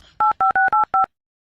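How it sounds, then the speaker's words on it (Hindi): Five quick two-tone keypad beeps in an uneven rhythm, loud and close, followed by silence. "पड़ोसन को फोन लगाता हूँ।"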